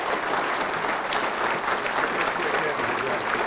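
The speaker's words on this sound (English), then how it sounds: "Let's give him a great round of applause." A lecture audience claps for a speaker on the Fort Henry and Donelson campaign, a dense, even roar of many hands that holds at full strength the whole time.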